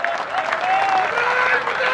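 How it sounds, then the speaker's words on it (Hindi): An audience at an Independence Day poetry recital applauds, giving dense, continuous clapping for about two seconds, with a voice audible over the applause. "एक बार जोरदार तालियां दोस्तों,"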